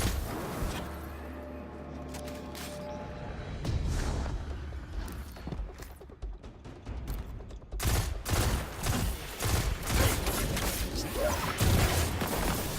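The Vex Mythoclast fusion rifle fires in the video game Destiny 2, rapid bursts of loud crackling shots crowding together, with heavier impacts and game noise building toward the end.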